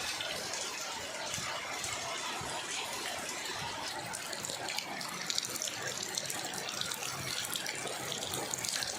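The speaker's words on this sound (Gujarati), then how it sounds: "જો પવન સાથે છે અને વરસાદ અત્યારે ખૂબ છે." Heavy rain driven by wind pours down in a dense, continuous rushing wash like running water, fairly loud and even throughout, with no talking.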